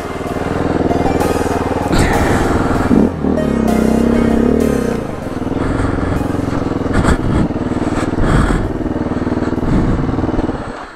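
An off-road motorcycle engine revs and labors on a slippery muddy trail, loud and close, with throttle surges and a drop in pitch before the engine climbs again, plus occasional clatter.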